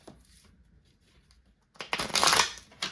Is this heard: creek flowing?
no